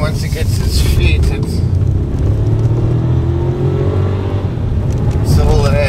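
Turbocharged 1-litre VW T-Cross R-line engine pulling under acceleration, a rising whirring drone inside the cabin that climbs steadily, with someone talking over it most of the time.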